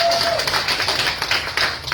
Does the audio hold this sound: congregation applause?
yes